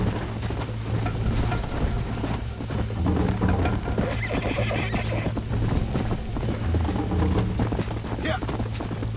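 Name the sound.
horse galloping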